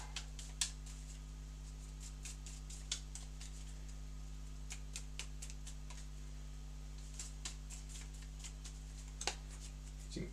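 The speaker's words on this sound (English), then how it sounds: "Give it a good shuffle." A deck of cards being shuffled during a tabletop card game play session, faint, quick riffling ticks and soft flicks in scattered bursts against a steady low hum.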